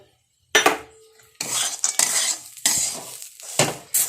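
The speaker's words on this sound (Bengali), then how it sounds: "এরপর আমি দিয়ে দেবো বাদামগুলো" Peanuts tumble into a hot pan of semolina upma, followed by metal spoon scrapes and stirring clatter in short, close bursts with pauses between.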